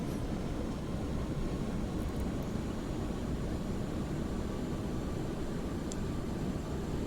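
An airliner rolling down a runway after landing in Microsoft Flight Simulator X, a steady loud rumbling roar of engines and wheels that continues without a break, with no speech.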